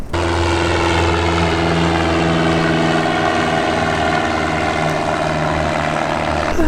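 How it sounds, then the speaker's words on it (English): Cessna 172 light airplane engine and propeller droning loudly and continuously at a steady pitch, heard from close by inside the aircraft with no talk. "Cessna 172. So let's go."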